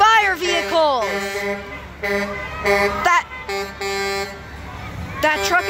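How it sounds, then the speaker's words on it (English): Horns of fire vehicles blare in a holiday light parade, a run of loud toots and sustained blasts close by, some rising and falling in pitch, with engine rumble underneath. "Hear all the fire vehicles."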